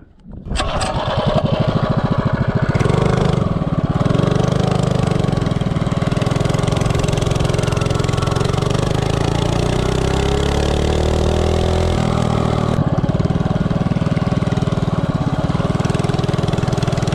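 A Predator 224 engine fitted with a Coleman 196 cylinder head runs steadily and loud for the whole stretch, revving up with a rising mechanical drone before settling and changing pitch near the end.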